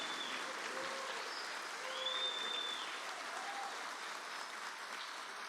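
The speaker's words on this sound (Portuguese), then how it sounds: "pedir uma salva de palmas a todos os professores das universidades e institutos federais" An audience at a ceremony applauds university and federal institute professors, a dense, even sustained clapping with faint voices mixed in, heard from within the crowd.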